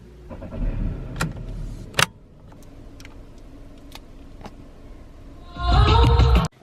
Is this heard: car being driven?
yes